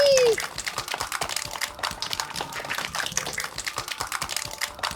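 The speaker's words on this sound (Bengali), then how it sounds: "জোরে হাততালি।" Loud applause and clapping from an audience at a kids' spring festival show, dense and continuous throughout with crowd noise mixed in.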